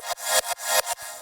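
A synthesized kick's punch layer sent into its own reverb channel for a color kick: four loud, bright hits in a steady rhythm, each swelling into a washy tail that is cut off sharply by the next hit, with no voices.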